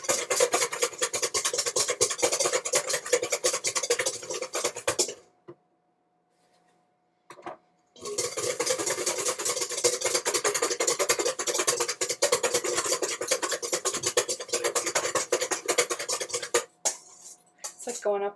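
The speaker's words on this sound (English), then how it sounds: "So just a little bit of the sugar in, and you keep whisking." Sugar being whisked into a mixture in a bowl, a dense, continuous scraping and clinking of metal against the bowl, stopping briefly partway through before resuming close and loud.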